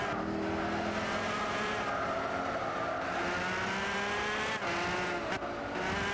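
McLaren race car in Gran Turismo 6, engine droning steadily with shifting pitch and tire squeal through turns, loud and continuous with brief dips, no talking.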